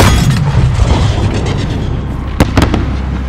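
An explosion goes off in Call of Duty: Modern Warfare 3, a loud deep boom at the start that rumbles and decays, followed by a couple of sharp cracks near the end.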